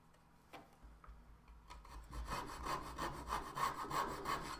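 A small saw cuts into the body of a Glarry UC205 soprano ukulele, starting faint and hesitant, then settling into close, steady back-and-forth rasping strokes.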